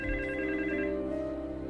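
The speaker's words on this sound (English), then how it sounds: "And then the phone rang." A telephone rings with a steady electronic trill, moderately loud against a low background hum.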